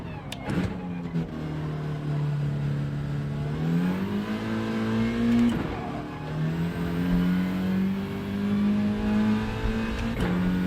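A Volkswagen Scirocco drives steadily with a smooth, droning engine note that rises gradually as it accelerates, heard from inside or close by with faint road noise and no talking.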